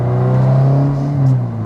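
Turbocharged car engine revving steadily with a strong low drone and rising whir, close and loud, without distinct pops or bangs standing out.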